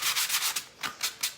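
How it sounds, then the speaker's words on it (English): Fine-grit sandpaper rubs back and forth over a surface in quick strokes, roughly eight close, crisp scratchy passes with a brief pause in the middle. "This is a fine grit sanding paper."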